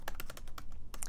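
Quick keystrokes on a computer keyboard while a post is entered in an online community forum, a short burst of close, crisp taps with brief pauses, no voices.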